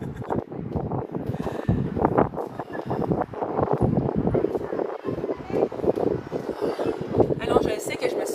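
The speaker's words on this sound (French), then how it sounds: "il y a beaucoup de vent ici" Gusty wind buffets the microphone outdoors at the Festifleurs flower festival, a steady rumbling roar beneath a woman's ongoing chatter.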